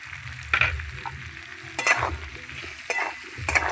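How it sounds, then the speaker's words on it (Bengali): Onion tossed into a pan of taro and potatoes frying in oil, giving a steady close sizzle with a few louder bursts of stirring and crackle. "এই যে পেঁয়াজটা দিয়ে দিচ্ছি"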